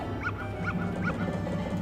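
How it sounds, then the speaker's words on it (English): A dog in Zelda: Majora's Mask barks in short yappy bursts, three quick repeated barks over a steady game music bed. "Let's see how the dog reacts to the"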